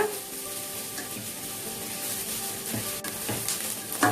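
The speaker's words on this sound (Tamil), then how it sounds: "இப்போ வெங்காயம் போட்டுக்கலாம். வெங்காயத்தை நல்லா வதக்கிக்கலாங்க." Onions sauté in a pan for prawn rice, giving a steady close sizzle with occasional stirring scrapes, with no talking.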